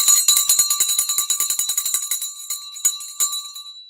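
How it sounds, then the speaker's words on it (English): A hand bell rung to mark the stock market close, shaking out a rapid, loud run of bright metallic rings that slow and thin into a few final separate strokes. "Oh, it is bell time."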